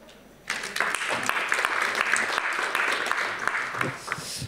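An audience bursts into applause for a guest, a former guitarist now working as an AI consultant, the clapping starting abruptly and holding steady and dense for several seconds in a room.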